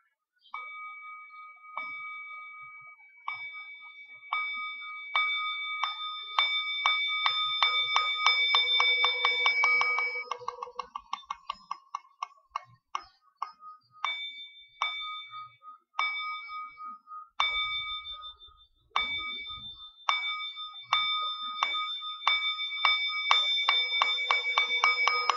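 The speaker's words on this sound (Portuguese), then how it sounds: "No Zen, quando eles batem um sino, eles batem assim." A Zen temple bell is struck again and again, each clear metallic ring decaying into the next. The strikes come faster and closer together, then spread out again, ringing alone with no talk.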